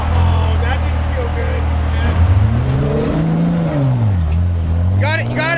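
A Jeep engine revs and strains on a rough off-road 4x4 desert trail, the loud engine tone rising and falling as throttle comes and goes, with voices and faint clanks near the end.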